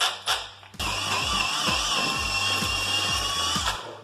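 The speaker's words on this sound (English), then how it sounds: "we're going to mix this mortar now" A power drill with a mixing paddle churns tile mortar in a bucket, revving after a brief start and then running as a steady, close, continuous whine with a rhythmic low chugging for about three seconds.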